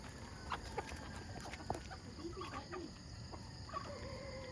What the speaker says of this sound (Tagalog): Who's the bad boy chicken in there?